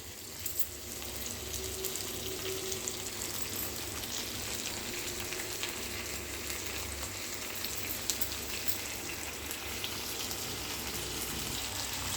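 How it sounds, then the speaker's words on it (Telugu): Green chili paste frying in a pan, giving a steady, dense sizzle that holds evenly throughout at close range with no talking. "వేసానండి పచ్చిమిరపకాయల కారం."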